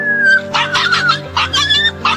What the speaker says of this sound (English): This hungry stray puppy wandered around all by himself along the dangerous train tracks, trying to find something to eat